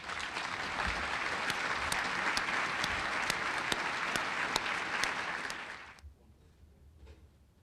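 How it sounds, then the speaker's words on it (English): An audience at a medical school honors and awards ceremony applauds an award recipient, a dense, sustained wash of clapping that fades out abruptly near the end, leaving quiet room noise. "Let's give an enthusiastic round of applause for all of our special honorees."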